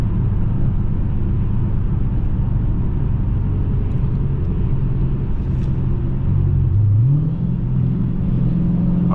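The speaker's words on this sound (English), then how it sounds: "I really like the sound of this V8." A 2017 Dodge Challenger Scat Pack 392 Shaker with a V8 engine, heard from inside on a prepped surface as a continuous deep engine rumble that rises in pitch near the end as it accelerates.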